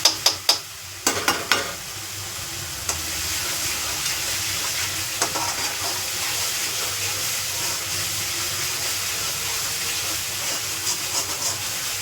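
Ginger, garlic and onion frying in a pan for chole bhature, giving a continuous loud sizzle with a few sharp clinks and stirring knocks near the start and scattered clatter later.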